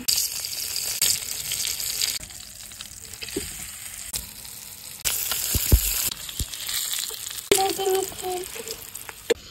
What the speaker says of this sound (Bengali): মাছ গরম তেলের উপরে দিয়ে দিচ্ছি